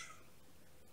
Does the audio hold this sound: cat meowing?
yes